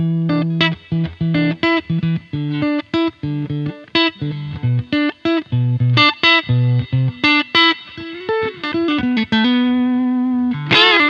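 An electric guitar through a digital reverb pedal plays a quick run of picked notes and chords with a reverb tail, close and clear, ending on a sustained note.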